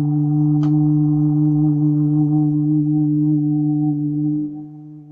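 A sustained chanted vocal hum on one steady low pitch with rich vibrating overtones, held for about four and a half seconds before fading, close and clear with no other sound.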